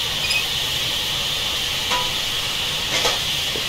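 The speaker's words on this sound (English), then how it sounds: "Steam heating." Steam heating on an LNER K1 2-6-0 locomotive in Train Simulator Classic, a loud continuous hiss held steady throughout, with faint clanks now and then in the background.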